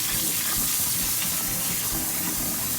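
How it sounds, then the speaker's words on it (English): Dal lentils being washed by hand in room-temperature water, a steady broadband swishing and trickling of water that runs continuously and close for the whole stretch, with no talking. "in room temperature water, wash the dal really good."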